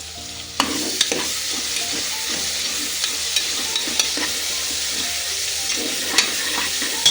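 Green chilies and onions fry in oil with a continuous sizzle, while a spoon scrapes the pan at regular intervals as it stirs them close by.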